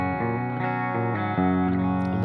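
An electric guitar plays sustained, distorted chords through a 100 watt amp head and cabinet, loud and close, with chord changes ringing out continuously.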